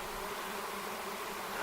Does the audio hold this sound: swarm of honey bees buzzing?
yes